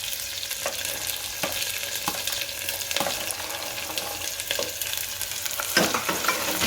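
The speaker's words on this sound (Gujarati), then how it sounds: "અને સાતળી લેવું કાંદા." Onions sautéing in hot oil for Kathiyawadi vaghareli khichdi, with a continuous close sizzle broken by regular scraping stirs, no talking.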